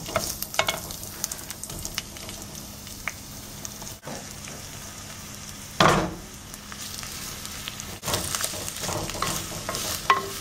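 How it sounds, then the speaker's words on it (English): Onions frying in hot coconut oil, a constant crackling sizzle with occasional stirring scrapes and clatter, close and steady over several seconds, no talking. "we are going to fry these or saute these onions on about medium to high heat until they turn nice and soft"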